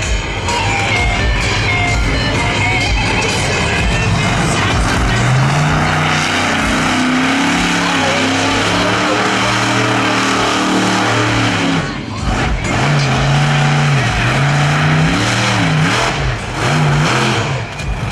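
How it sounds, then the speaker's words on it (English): Monster truck roaring through a show run, loud engine revving that rises and falls close by, with a brief dip before surging again. "Tony Dixon, fine start, and he hits the first obstacle."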